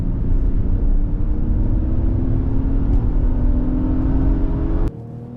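Acura MDX Type S SUV accelerating hard in a roll race against an Audi Q8, a steady loud engine and road roar rising in pitch for about five seconds before abruptly dropping away.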